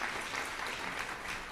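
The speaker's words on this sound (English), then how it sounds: "please can we have a round of applause" Audience at a young women's breast cancer and health day event applauding a guest, a brief dense wash of clapping heard alone and fairly faint.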